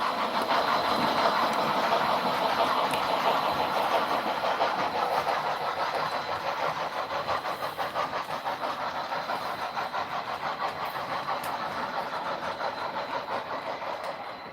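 Three model train locomotives run together as a triple header, a steady layered rumble and whir of overlapping engine sound with rhythmic clatter, holding close and fairly loud before easing slightly at the end.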